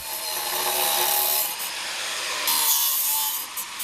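Cement foundation stones are trimmed with a grinding, rasping tool in a continuous close abrasive hiss that dips briefly and resumes.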